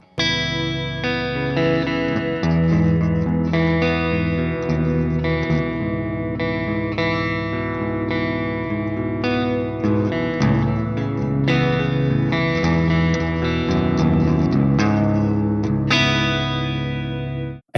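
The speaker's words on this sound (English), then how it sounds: "Last but not least, let's check this chorus." Electric guitar played through the chorus section of the Neural DSP Archetype Gojira X amp plugin, a dense, continuous run of strummed chords and riffs with a shimmering, effected tone, loud and close with no talking.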